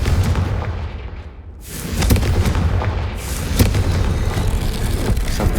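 Confringo spell blasts in Hogwarts Legacy boom loudly, with a heavy explosion followed by further rumbling impacts and crackling debris, and no voices.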